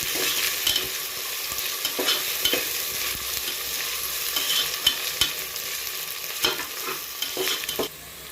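Vegetables frying with ginger garlic paste for veg biryani, a steady close sizzle running throughout with repeated scraping stirs of a spoon in the pan and no voices.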